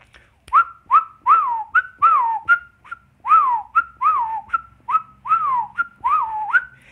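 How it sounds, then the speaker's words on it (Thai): A person whistles a quick run of short, bright tuneful notes, many rising or dipping in pitch, clear and close with brief gaps between them. "เริ่มแรกผมจะผิวปากให้ดูก่อนละกันนะครับ"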